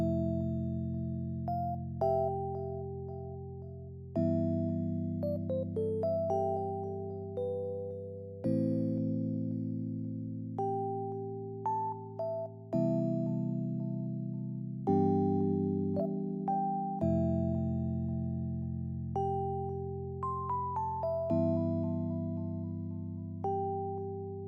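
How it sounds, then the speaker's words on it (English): Electric piano in a music production mix plays sustained chords under a soft, ringing melodic line that shifts every few seconds, smooth and mellow throughout, no voices. "alongside the electric piano, which sounds like this."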